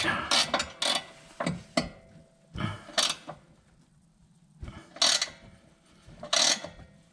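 A wrench turns a nut backward on a Subaru Outback front sway bar part to clean the threads, giving irregular ratcheting clicks and creaks in short bursts separated by pauses.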